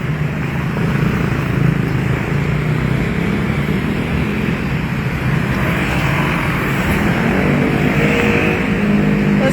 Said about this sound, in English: so you guys can see the bountiful afternoon traffic